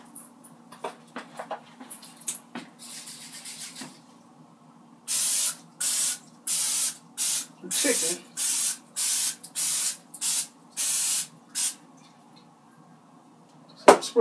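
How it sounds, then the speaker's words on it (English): A can of cooking oil spray mists chicken wings in a baking pan for oven frying, giving about nine short, loud, regular hissing bursts after a few seconds of quiet handling noises. "So I'm spraying the chicken also"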